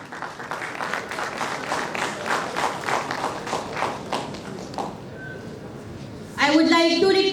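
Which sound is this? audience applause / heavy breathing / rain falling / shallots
audience applause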